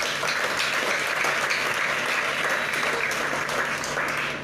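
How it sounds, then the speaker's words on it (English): An audience applauds an organization marking fifty years at a panel discussion, a steady wash of clapping from many hands holding at even strength throughout. "Please, let's give them a round of applause."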